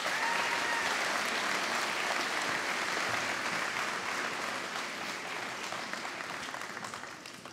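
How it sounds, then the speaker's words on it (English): A graduation ceremony audience gives a long round of applause, a dense crowd of hands clapping steadily, loud at first and slowly tapering off over about seven seconds with no talking. "So a huge round of applause for Mr. O'Shaughnessy,"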